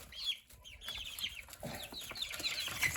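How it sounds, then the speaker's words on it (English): Chickens clucking in a coop, a faint, scattered chorus of short clucks and chirps from several birds at close to middle distance, with no talk. "I'll be moving chickens around this week."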